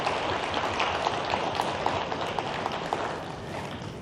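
A crowd at a Buddhist temple gathering claps together in broad, continuous applause that holds steady for several seconds before easing slightly at the end.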